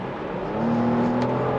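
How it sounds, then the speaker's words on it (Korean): Turbocharged B58 inline-six in a BMW X7 40i with an 8-speed automatic rises in a smooth, building hum as the SUV accelerates from about 80 km/h, heard steadily from inside the cabin. "가속을 하면은 터보렉이 없을 수는 없어요 있긴 한데 터보렉의 느낌이 거의 안 느껴지고 바로 즉각적인 반응을 해주는데"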